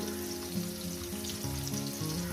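Potatoes fry in oil with a little salt in a pan, a steady soft sizzle with faint low hum running throughout, moderately quiet and even, no voices.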